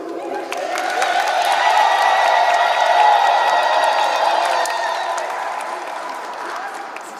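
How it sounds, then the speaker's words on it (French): A large crowd applauds to welcome supervisors at a gathering, loud sustained clapping with cheers and whoops swelling and then slowly fading. "nous allons les accueillir en les applaudissant"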